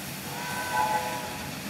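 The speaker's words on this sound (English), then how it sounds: "There is another train." A train rumbles past near a station, a steady low rolling drone with a brief tonal horn-like swell midway, heard without talk.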